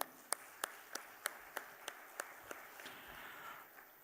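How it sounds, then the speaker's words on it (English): An awards-night crowd at the Hilton Colombo claps for Sri Lanka Telecom, sounding as distinct, evenly spaced sharp claps that are faint and distant and fade toward the end. "Come on, everyone, big round of applause to Sri Lanka Telecom."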